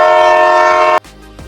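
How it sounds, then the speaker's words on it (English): A loud, steady train horn from the video game Granny blares for about a second with rich harmonic tones, then cuts off abruptly, leaving quieter rumbling game ambience. "you thought I was gonna play the train horn again?"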